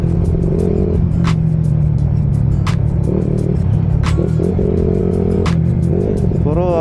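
Yamaha Sniper 135 motorcycle engine, a nearby rumbling motor with repeated rising and falling revs and clattering mechanical bursts, close and fairly loud.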